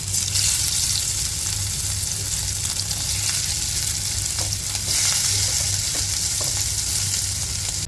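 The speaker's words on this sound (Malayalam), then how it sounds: "പൊട്ടറ്റോ ഒക്കെ ഞങ്ങൾ ഫ്രൈ ചെയ്തെടുത്തിട്ടുണ്ട്" Boiled potatoes coated in turmeric, chili powder and salt frying in a pan give a loud, continuous close-up sizzle with occasional stirring scrapes, and no talking.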